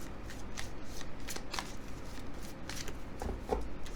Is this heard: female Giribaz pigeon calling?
no